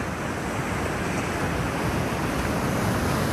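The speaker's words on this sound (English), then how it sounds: "The waves are really awesome this morning." Surf breaking steadily on a Bali beach on a morning with many surfers offshore, a continuous loud wash of waves with some wind noise on the microphone and no talking.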